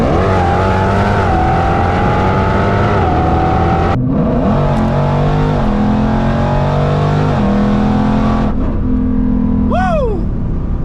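A tuned Jeep Trackhawk launches hard, its engine roaring loud and close as it revs up through rising gear pulls, with a shift break partway through and a final sweep as it winds down.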